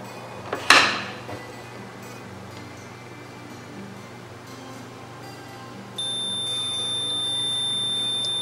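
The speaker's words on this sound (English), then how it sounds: "Alarm" Alarm beep from a Mitsubishi Freqrol A500 inverter raising an OH fault after a power cycle: a sharp click near one second, then a steady high electronic tone that starts around six seconds and holds to the end, over low hum.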